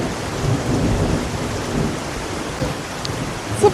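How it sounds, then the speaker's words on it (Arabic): A heavy rainstorm pours down steadily, with a deep rolling rumble of thunder swelling under the dense rain noise before a brief sharper tap near the end. "اسمع البرق"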